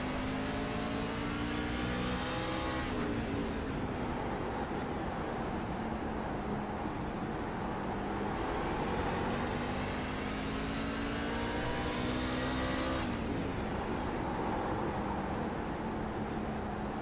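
Race truck on an oval with its front end sliding on corner entry, a continuous loud engine drone with pitch sweeping up and down as it works through the turn, no voices.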